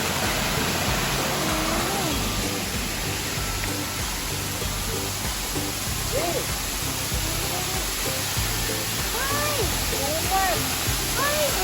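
A waterfall and a tall fountain at a beach resort in Chanthaburi, Thailand, give a steady, dense roar of falling water throughout, with people talking faintly beneath it.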